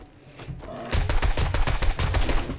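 AK rifle fire in 7 Days to Die, a quiet lead-in followed by a rapid burst of closely spaced, punchy shots that keeps going steadily for about two seconds.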